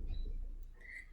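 A small bird chirps faintly a couple of times over a low, rumbling background, thin and distant.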